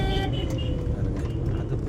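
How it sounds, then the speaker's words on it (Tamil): A motor vehicle cuts across the road between Salem and Yercaud, with a short honk amid busy road traffic close by and a voice briefly audible. "அதுக்குள்ள ஒரு குறுக்க ஒரு வண்டி வரான்."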